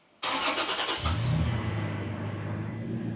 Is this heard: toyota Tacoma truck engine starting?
yes